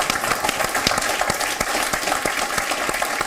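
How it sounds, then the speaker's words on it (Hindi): Sustained applause from a live audience at a Hindi poetry gathering, greeting a famous comedian from Mumbai as he comes on; dense, steady clapping with a few sharper claps standing out, and no voices over it. "तालियों से अभिनंदन।"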